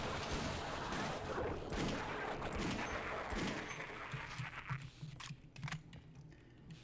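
Dense, rapid gunfire rattles on for several seconds in Half-Life: Opposing Force, then thins into scattered, irregular shots.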